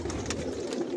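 Foreign racing pigeons of a Johnson line coo in a low, steady murmur inside a loft, close and continuous, with no voices.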